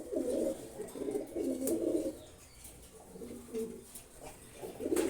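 A pair of pigeons coos close by in repeated low, throaty phrases, several bursts in a loose rhythm over soft background hiss.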